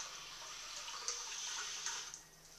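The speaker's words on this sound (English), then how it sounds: "I'm also going to add a 1/2 cup of water." Half a cup of water poured into a radish canning brine, a soft close trickle and splash lasting a couple of seconds with small drips, fairly quiet and tapering off at the end.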